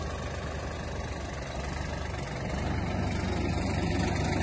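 Kubota GT21 mini tractor, a 21 hp Japanese compact tractor, with its engine running steadily as it drives forward and back. The engine makes a continuous low rumble that rises slightly partway through, with no talking.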